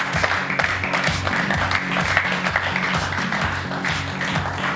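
A studio audience applauds as a guest is called onto the stage of a show, with dense, steady clapping that stays loud and even for several seconds, heard close with no talk over it.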